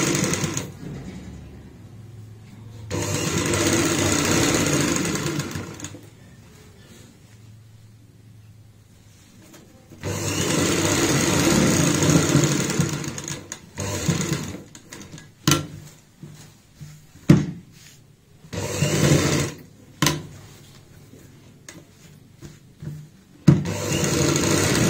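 Sewing machine stitches a fabric strip onto a lace-trimmed neckline, running in long steady whirring bursts broken by pauses and short stop-start runs with small clicks, close and fairly loud with no talking.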